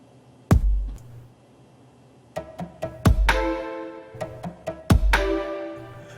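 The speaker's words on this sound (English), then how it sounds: "that's the strings right there." Electronic track section with kick and snare hits joined by sustained string-like tones that swell after the beats, moderately loud and heard without talk.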